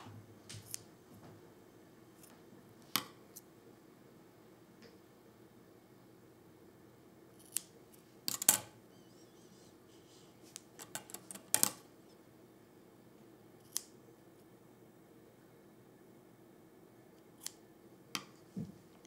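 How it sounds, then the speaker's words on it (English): Scissors snipping excess weaving thread, sparse sharp snips scattered irregularly, some in quick pairs or clusters, quiet and close against a faint background. "Now we're gonna snip the excess thread off."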